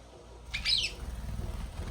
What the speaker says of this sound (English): I'm trying to keep the bird from eating these because he is right here trying.